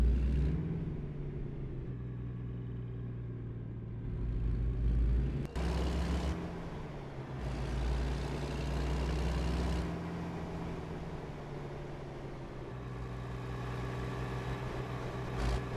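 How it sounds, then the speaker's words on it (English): A Kenworth W900 Legacy Edition truck in American Truck Simulator drives with a steady low engine rumble and drone, loud and continuous with no voices, its pitch shifting slightly as it runs. "The Kenworth W900 Legacy Edition. Be sure to get yours and drive it around."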